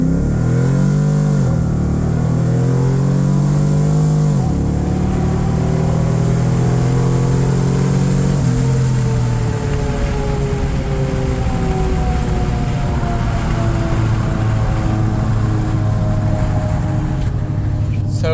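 A 2012 Chevy truck with a 6.2 engine, Truck Norris cam, stock converter and Magnaflow exhaust accelerates hard from a roll, its loud deep exhaust note climbing steadily in pitch through the gears, close by and continuous.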